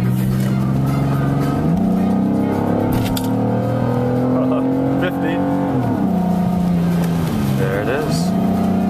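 Loud car exhaust drones continuously from inside the car at highway speed, its deep engine tone shifting in pitch several times as the car cruises.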